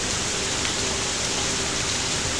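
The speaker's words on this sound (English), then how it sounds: "it's gonna be a wet, rainy, and gloomy day" Steady rain falling outdoors during hurricane weather in Louisiana, a dense, even hiss that stays constant and fairly loud, with no voices.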